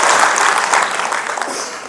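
An audience at a storytelling training session breaks into sustained, dense clapping, loud and fairly close, fading slightly toward the end.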